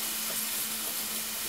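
Garlic and onion sauté for ground beef in a hot pan, giving a steady, even sizzle that holds at a constant level throughout with no pauses or voices.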